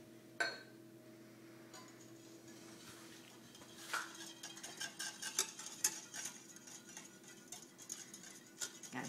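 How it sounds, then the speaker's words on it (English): Eggs, milk and melted butter being whisked together in a bowl for cornbread muffins, a steady run of soft scraping and light clinks of the whisk against the bowl, close and moderately quiet, with no talking. "why don't you whisk these together?"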